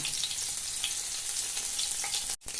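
Mustard seeds fry in hot oil for a bamboo shoot thoran, making a dense, steady crackling sizzle close by that breaks off briefly near the end. No one talks.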